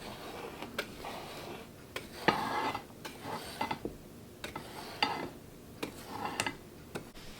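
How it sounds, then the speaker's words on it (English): A whisk ticks and clinks against a bowl while dry cake ingredients are mixed, producing quiet, uneven metallic taps and soft scraping strokes. "Give our dry ingredients a little whisk here."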